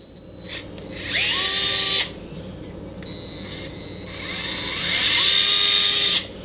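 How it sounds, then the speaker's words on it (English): A small DeWalt cordless hex screwdriver runs in two bursts, each starting slowly with a rising whine before settling into a steady high motor hum, close and clear with no talk. "It's just a little tiny cordless hex screwdriver."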